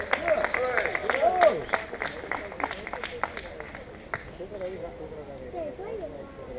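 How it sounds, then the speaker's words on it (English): Audience applause and cheering ring out at a Battle of Antrim reenactment in Castle Gardens, Antrim, a dense spatter of claps and raised crowd voices running throughout at moderate loudness. "put your hands together for everybody that took part today, especially my men, and give them a rousing cheer"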